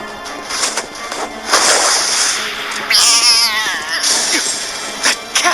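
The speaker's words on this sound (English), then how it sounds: "That cat! It was eating a puppy!" A cat in the video game Bloodborne yowls and caterwauls in loud, drawn-out wails, several rising cries in succession over a dark game ambience.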